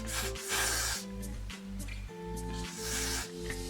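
Soft hissing bursts of Got2b hair spray, several short sprays in a row over a low steady hum, fairly quiet and close.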